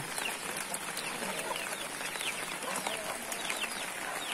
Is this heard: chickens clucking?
yes